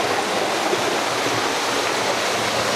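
Water at Catmon Falls in Magallanes, Cavite crashes onto rocks, giving a dense, steady roar of rushing, splashing water close by with no voices.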